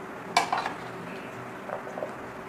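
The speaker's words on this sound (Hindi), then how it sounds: "चलें जी, अब हम अपनी सर्विंग डिश में निकालते हैं।" Close clatter of a spoon scraping and tapping against a serving dish as spicy katori chaat and chana chaat are dished out, a sharp knock followed by softer scrapes.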